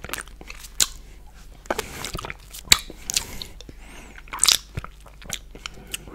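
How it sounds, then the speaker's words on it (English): Close, crisp crunching bites into a strawberry ice cream cone, with irregular crackles and soft wet mouth sounds between them against a quiet background. No voice is heard. "today I'm eating ice cream. It's strawberry ice cream with a horn."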